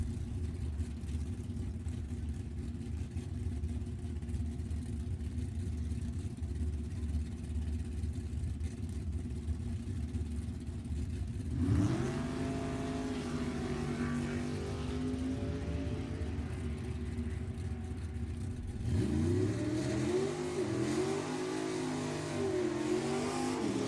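A 1967 Camaro and a 1969 Chevelle at a drag race at Sacramento Raceway rumble at idle, then rev up hard in two bursts of rising, roaring engine noise heard from a distance.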